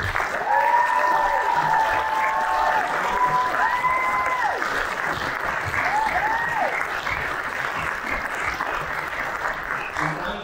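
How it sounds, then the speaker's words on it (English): A large forum audience gives a long round of applause, steady and even throughout, while a few tonal electronic glides and sweeps sound over the clapping in the first half. "let's show our support to Mer Herosner and to Dr. Nazaryan with a very big round of applause."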